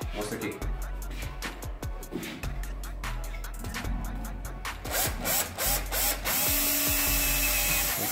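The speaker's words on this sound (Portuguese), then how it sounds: "Então eu vou fazer um furo aqui, mostra aqui." Drill boring a hole with cutting fluid during work on a surface-mount LED strip profile, a high whine in repeated short bursts with mechanical clicks, close up.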